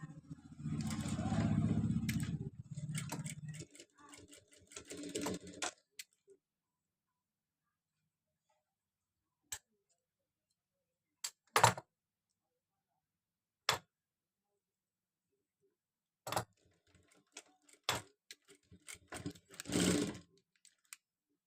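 A sewing machine stitches box neck piping in a short, close burst of whirring, then stops, leaving scattered isolated clicks and taps in near silence.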